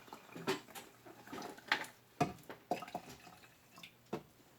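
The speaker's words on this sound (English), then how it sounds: "I'm going to pour 1 cup in Miss Evelyn's." Liquid poured by the cup into a bowl during a homeschool kitchen activity, heard as close, quiet, intermittent drips and small splashes that come in short irregular bursts with no talking.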